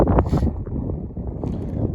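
Gusty wind blowing across a winter wheat field in Odesa region, buffeting the microphone in uneven rumbling bursts with no voices.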